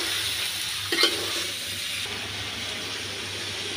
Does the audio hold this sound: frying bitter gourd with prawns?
yes